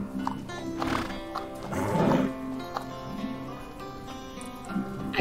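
A Gypsy Vanner horse in the mobile game Horse Haven gives a loud whinny, with hoof clops and other game sounds layered around it, and nobody speaking.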